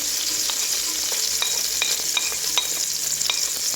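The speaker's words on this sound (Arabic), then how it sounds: "نقليهم مع بعضاهم، نقليهم مليح" Two medium onions frying together in a pan, a steady bright sizzle with scattered pops and crackles throughout, close and continuous with no voices.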